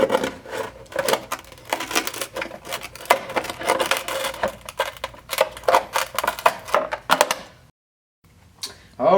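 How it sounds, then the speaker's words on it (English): Tin snips cut a rounded end into a metal roof shingle panel, giving repeated sharp metallic clips and crunches in an irregular rhythm, close and fairly loud, with a brief pause near the end. "we'll use our tin snips to be able to do the round cut at the end right here"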